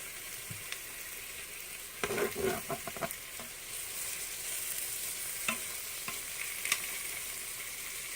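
Small meatballs browning in a pan beside spaghetti squash, a steady close sizzle with a short cluster of scraping and clattering from a utensil and a few scattered pops.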